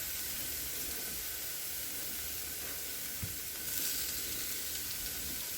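Three pads of butter melt and sizzle in a pan with caramelized mushrooms and onions, giving a steady, soft hiss that swells slightly near the end.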